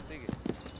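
An Andalusian horse's hooves strike in a few quick, muffled clip-clops under a narrator's voice, soft and brief against low background sound.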